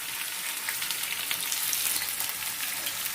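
Curry leaves fry in hot oil for mint rice, a continuous crackling sizzle with fine spitting pops, moderately close and without voices.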